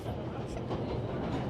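A train rolls along in the video game 11-11: Memories Retold, giving a continuous low rumble with faint rattling, quiet and partly under a voice.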